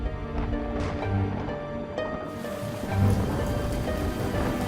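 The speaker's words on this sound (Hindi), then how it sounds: "फिर से बारिश शुरू हो गई" Rain starts falling at a house, a dense steady hiss of drops that thickens and broadens partway through, with faint tonal background sounds underneath and no talking.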